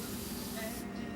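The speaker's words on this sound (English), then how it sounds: "I'm just going to go around the bird and spray some white" Spray can or airbrush misting white paint onto a carved shore bird figure, a close steady hiss that cuts off near the end.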